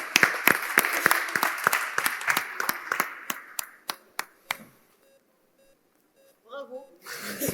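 Audience applause at a pediatric emergency medicine simulation event, a burst of sharp claps that thins to a few scattered hand claps and fades into near silence before voices stir at the end.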